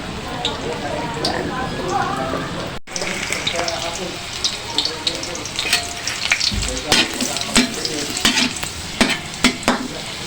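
Cabbage sizzles and crackles steadily in a hot pan, with stirring clatter and a voice talking over the frying.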